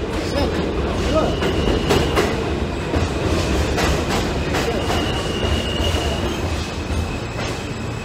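A crowded subway train rumbles along with rhythmic clatter of wheels on track and occasional squeals, steady and close, without talk.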